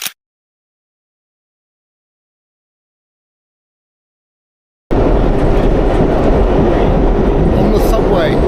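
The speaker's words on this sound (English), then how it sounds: "On the subway. We are on the subway." A New York City subway train rolls along with a loud, dense rumble and rattle that starts abruptly after a long silence and holds steady to the end.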